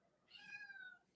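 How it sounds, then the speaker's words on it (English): A cat gives one drawn-out meow, clear and fairly close, over quiet room noise, followed by a faint brief chirp at the end. "I hope the mic is picking up his meows"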